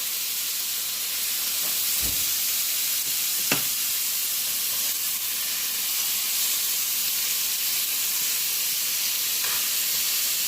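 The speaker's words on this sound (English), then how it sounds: "And we're going to quick turn my steak here." A steak sizzles steadily in a hot pan, a dense even hiss running throughout with a few faint clicks and taps of handling over it.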